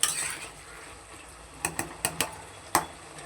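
A spoon stirs a spicy curry of small fish and raw green tomato in a pan, with a steady low hiss and a quick run of metal clinks and scrapes against the pan.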